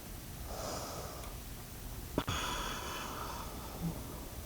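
Slow, steady yoga breaths drawn and released close by during a held forward fold in an Ashtanga practice, a soft airy hiss that keeps going with one brief sharp click partway through.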